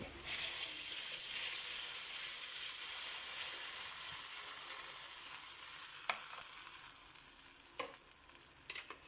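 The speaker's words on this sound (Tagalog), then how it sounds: "Lagyan na natin ang Sprite." Sprite poured over sautéed mussels in a hot pan sets off a loud, steady sizzle and hiss that slowly eases, with a few clinks of a utensil near the end.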